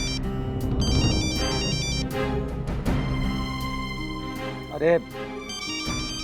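A phone ringtone plays steadily over background music and voices, with a person speaking briefly partway through.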